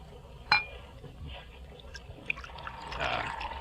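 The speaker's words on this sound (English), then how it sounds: "Your glass, Laura?" A drink is poured into a glass in a radio drama: a sharp clink of glass, then a soft liquid trickle with faint drips building toward the end, fairly quiet against a hushed room.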